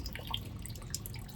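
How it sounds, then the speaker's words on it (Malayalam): Hot water running out of a Maruti Esteem's radiator during a flush, a quiet steady trickle and splatter with faint drips, no voices. "ചൂട് വെള്ളമാണ് വരുന്നത്."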